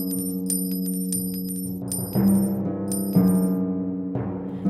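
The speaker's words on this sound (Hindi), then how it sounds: "खाना हो जाने पर वो राक्षस अपने सोने के सिक्के गिनने लगा।" Gold coins clink and jingle as a giant counts them, bright metallic drops landing in several bursts over a faint sustained tone, with no voices.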